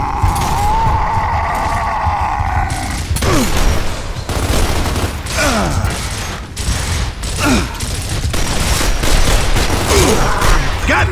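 Dense, continuous gunfire from Gears of War as players shoot at tanks, rapid overlapping bursts and booms at close range, with mechanical clanks and occasional shouting mixed in.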